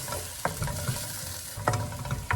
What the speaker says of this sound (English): Cook it for about 10 minutes till the blended ingredient releases some oil.